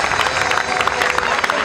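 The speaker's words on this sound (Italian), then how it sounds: "Grazie, facciamoci un applauso" An audience at an evening event breaks into applause, dense clapping with a crowd murmur and some cheering blended in, loud and close for a short burst.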